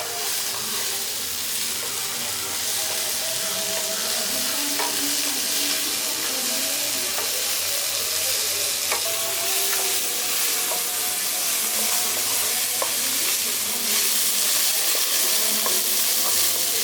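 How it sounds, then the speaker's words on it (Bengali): Okra sizzles in hot oil in a pan, a steady bright frying hiss broken by scraping stirs of a spatula every few seconds, close and moderately quiet with no talking. "ঢ্যাঁড়সটা এখানে ভাজা হয়ে গেছে"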